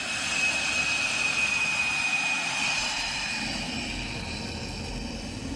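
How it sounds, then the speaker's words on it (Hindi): An LCA Tejas fighter jet lands on the deck of the aircraft carrier INS Vikramaditya, its jet engine giving a steady, loud roar with a high whine that settles slightly lower and softer toward the end, with no talk. "लहरों पर तेजस की स्पेशल लैंडिंग।"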